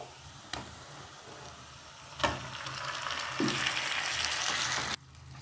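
Mutton pieces coated in masala frying with onions in a pan for Hyderabadi mutton masala, a steady sizzle with a few sharp utensil knocks and scraping stir strokes, close and fairly loud, stopping abruptly near the end.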